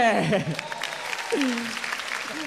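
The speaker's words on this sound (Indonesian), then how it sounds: "Tepuk tangan buat Ko Ide." Stand-up comedy crowd clapping for comedian Ko Ide, a sustained spread of applause with a voice speaking over it.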